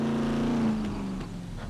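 A synthetic engine drone from a pickup truck or SUV in the video game SCUM hums with a steady pitch that drops slightly, like idling and shifting, with no voices.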